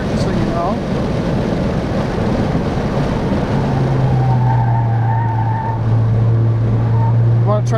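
A Ford Focus ST races around the Autobahn Joliet track in Illinois, its loud engine droning throughout as it brakes hard into a corner, with tire noise and a steady low tone building in the second half.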